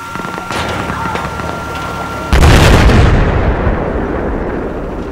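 Explosions boom in Battlefield 4 as artillery fire lands, with a sudden loud blast midway over ongoing battle noise and distant gunfire.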